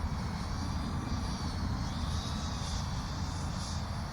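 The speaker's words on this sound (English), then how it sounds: "Yay, drone." An iFlight Defender25 4S HD FPV drone flies on its maiden flight, a steady buzzing propeller drone that stays constant and moderately loud throughout.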